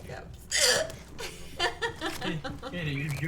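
Repeated hiccups from a woman streaming live on Twitch, sharp short bursts spread through the clip, close and fairly loud, mixed with pained exclamations and chuckling voices.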